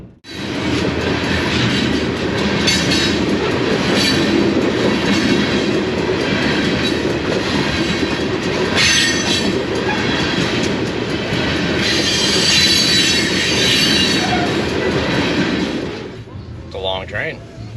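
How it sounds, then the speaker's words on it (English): A train rolls past close by on the rails, loud and sustained with rhythmic wheel clacking and occasional squeals, then fades away near the end. "Train."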